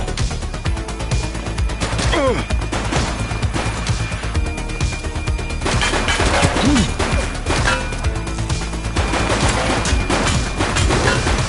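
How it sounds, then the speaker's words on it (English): Rapid bursts of gunfire from a police shooting video game, with repeated crashes and shots over continuous game sound and a busy background mix. "He's shooting!"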